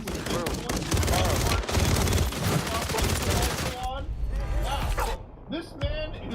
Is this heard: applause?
no